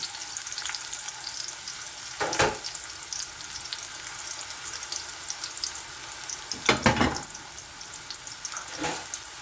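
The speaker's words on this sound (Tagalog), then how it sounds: "ilagay na natin yung ating bawang at saka sibuyas" Three cloves of garlic and half an onion frying together in a pan for chopsuey, a steady close sizzle with a few louder bursts of stirring and crackle.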